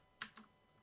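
Two quick keypresses for a Ctrl+Tab shortcut on a computer keyboard make a crisp pair of close clicks about a sixth of a second apart, followed by near silence.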